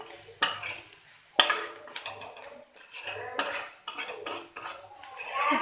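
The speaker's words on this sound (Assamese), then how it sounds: "অকণমান লৰাই লওঁ" Metal spoon scraping and clanking against a pan while eggplant and fish curry is stirred, several sharp knocks amid soft sizzling, close and fairly loud with no talking.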